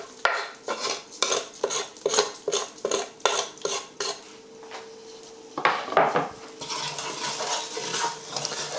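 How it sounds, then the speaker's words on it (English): Black mustard and cumin seeds frying in oil while a utensil stirs them, a run of rhythmic scraping strokes against the pan followed by steady sizzling with a few sharper pops. "So we'll put in the black mustard seeds. Just give them a little stir, and you'll notice they'll start popping in a moment."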